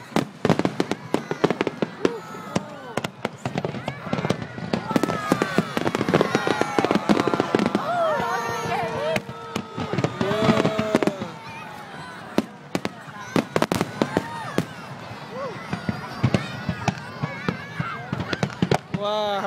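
Fireworks at Canberra's 100-year birthday celebration boom and crackle in rapid, irregular bursts, some with whistling trails, heard from a distance as an outdoor crowd murmurs and people chat nearby.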